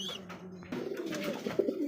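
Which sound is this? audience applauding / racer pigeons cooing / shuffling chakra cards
racer pigeons cooing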